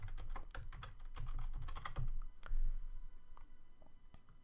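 A computer keyboard is typed on to enter a username and password, a close, irregular run of crisp key clicks with a few heavier thumps, fairly quiet and with no talking.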